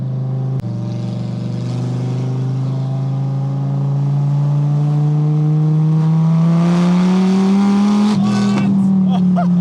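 A tuned car in Milan, Italy, with a V10-like sound, revs hard from inside the cabin, with a loud, steady engine drone climbing in pitch through the gears and a sharp shift jolt near the end, while occupants talk excitedly over it.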